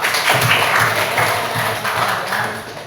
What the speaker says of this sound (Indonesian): Oke, aplaus dulu untuk semua.